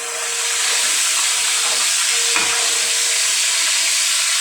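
Chicken frying in a pan for a vegetable pulao, sizzling with a steady bright hiss while a spoon stirs it, with one brief clink partway through.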